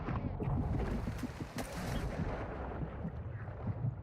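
Dense, continuous gunfire with heavy rumbling blasts in the video game DMZ, sounding close and muffled as shots and impacts overlap without a break.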